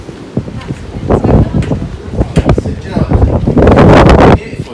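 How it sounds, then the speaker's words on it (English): Strong gusts of wind buffet an unshielded phone microphone outdoors on a windy day, with loud, rumbling bursts that keep rising and falling, and people talk under the noise. "We're here, it's very windy. Oh, what a windy day, isn't it?"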